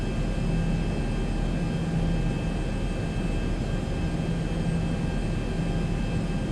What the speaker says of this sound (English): Engines are hardly working.